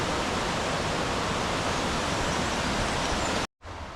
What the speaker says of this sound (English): A little mini waterfall.